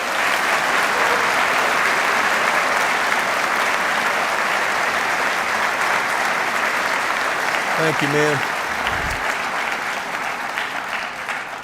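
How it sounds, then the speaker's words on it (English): Loud, dense applause from a banquet audience honoring football coaches, a sustained roar of many clapping hands that carries on steadily, with a brief voice speaking over it near the end. "I'd like for you to give them a round of applause"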